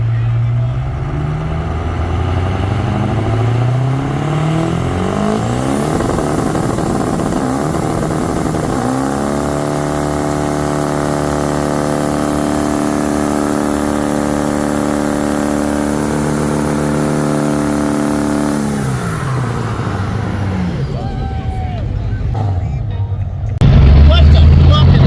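A loud truck engine at a rowdy truck meet revs and rises, holds a long steady high-rpm roar, then drops off, with shouting and crowd chatter around it.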